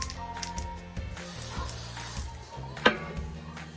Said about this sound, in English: So I'm deleting the middleman and just spraying it directly on my face.